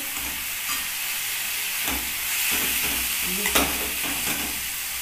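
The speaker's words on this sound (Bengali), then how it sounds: "সমস্ত রকমের সবজিটাকে একটু কষিয়ে নিচ্ছি" Mixed vegetables such as beetroot and potato sizzle in a kadai as they are stir-fried, a steady hissing fry broken by repeated scraping stirs close by.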